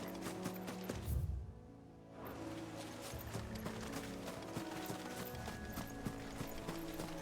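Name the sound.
companion Torgal's loud footsteps in Final Fantasy XVI video game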